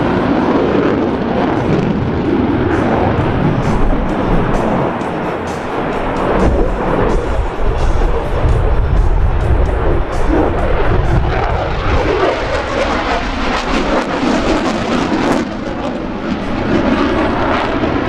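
A USAF F-16 fighter jet pulling a tight high-G turn at an airshow over Quonset, Rhode Island, a loud continuous roaring engine blast that swells and surges as it passes close, with no voices.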